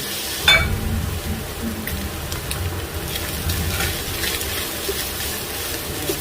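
Shrimp paste (alamang) dropped into a hot pan and frying, a steady crackling sizzle with a sharp hiss at the start and faint stirring clinks throughout, close and continuous.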